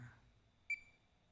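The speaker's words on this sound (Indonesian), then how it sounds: "Jadi di bagian dioda dia ada suara bip seperti ini." A Fluke 287 multimeter in diode test mode gives one short, thin electronic beep, brief and fairly faint against a quiet background.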